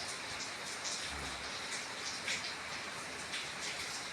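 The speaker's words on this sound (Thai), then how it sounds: "ฝนตกครับพี่น้อง" Rain falls at sunset in a steady, soft patter on surfaces nearby, an even hiss that runs throughout without pause, fairly quiet and with no voices over it.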